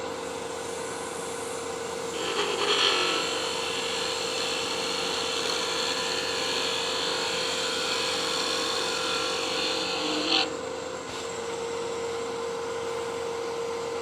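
A spinning wood lathe whines steadily as a chisel cuts salvaged wood for a tool handle, a sustained bright scraping hiss that swells when the cut begins and stops abruptly near the end.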